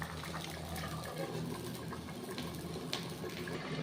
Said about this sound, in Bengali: এবারে ঝোলটা ফুটবে মাছের সঙ্গে